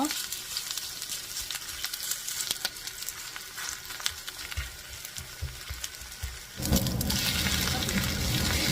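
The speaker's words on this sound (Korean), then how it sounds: "낮 불에서 두껍지 않고 얇게 펴서 붙여주세요" Grated radish pancake batter spread thin and frying in a pan over low heat, a soft crackling sizzle with some clatter, then a louder broad hiss in the last couple of seconds.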